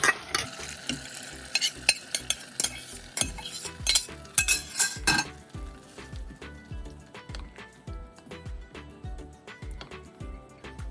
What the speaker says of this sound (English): Then go ahead and add the cooked red beans and aubergine mixture.